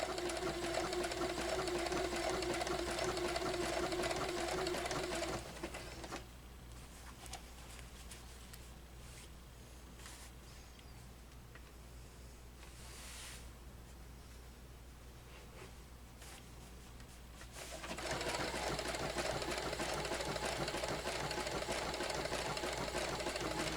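A sewing machine zigzag-stitches along the seams of a stained glass string quilt, its motor whirring steadily for several seconds, dropping to a quiet pause in the middle, then resuming at full speed near the end.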